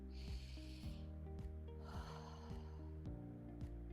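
Slow, soft breaths in and out, a long airy inhale then a gentle exhale, drift over a calm sustained musical tone during a meditation exercise.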